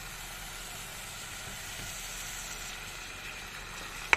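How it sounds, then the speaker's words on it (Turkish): Onion, minced meat and a clove of garlic sautéing in cooking oil in a pan, a steady close sizzling hiss that continues evenly throughout. "bir tane kuru soğan, kıyma ve bir diş sarımsak yemeklik yağımızı ekliyoruz. Bu üçlüyü birlikte kavuruyoruz."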